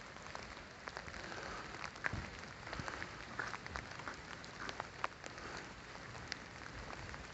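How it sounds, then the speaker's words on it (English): Steady rain falls at night on a downtown street in Ada, Michigan, a dense, continuous hiss with scattered droplet ticks, heard close and alone without talk. "Starting to rain harder now."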